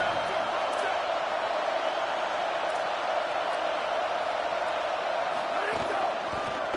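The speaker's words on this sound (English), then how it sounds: "Listen to this crowd just shaking the girders of this place trying to help their defense." Football stadium crowd roaring in support of the home defense during a Florida State versus Washington game, a sustained dense wash of cheering heard from within the stands, steady and moderately loud with occasional sharper shouts.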